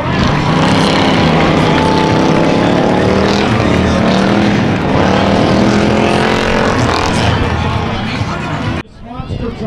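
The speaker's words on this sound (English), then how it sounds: "One still trying to go, spinning the rear wheels and everything, going through the intersection" A figure eight race car roars at the Antelope Valley Fair, engine loud and straining as its rear wheels spin, with a track announcer talking over the noise throughout before it cuts off abruptly.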